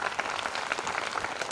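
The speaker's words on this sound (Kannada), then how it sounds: "ಒಂದ್ಸರಿ ಜೋರಾಗಿ ಚಪ್ಪಾಳೆ ಹೊಡಿ ಸರ್." Loud, steady applause from an audience at an honouring ceremony during a spiritual discourse event in Hubballi, dense clapping filling the whole short stretch with no speech over it.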